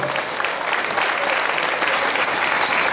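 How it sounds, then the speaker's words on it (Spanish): A crowd at an Independence Day Grito ceremony in Santa Fe de la Laguna, Michoacán, claps in sustained, dense applause that holds steady and loud for the full stretch, with no speech over it. "un fuerte aplauso"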